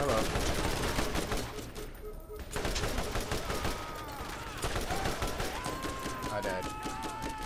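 Rapid, loud gunfire in the video game Borderlands, sustained bursts of shots that pause briefly and then resume.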